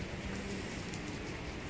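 Heavy evening rain falls steadily outside a home garden, a dense, even hiss of drops on surfaces that stays constant from start to finish with no voices.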